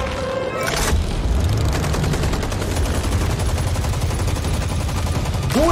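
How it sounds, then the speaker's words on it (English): Continuous rapid gunfire rattles through a cutscene in the video game Injustice 2, a dense, loud barrage that holds steady for several seconds with a brief whooshing accent at the end. "Who are they even shooting at?"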